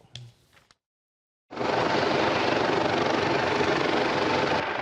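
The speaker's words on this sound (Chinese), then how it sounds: "海巡军舰空勤直升机出发执行任务" A coast guard helicopter sets off on a mission: after a brief faint noise and a moment of silence, its loud, steady rotor and engine roar starts abruptly and holds close and constant to the end.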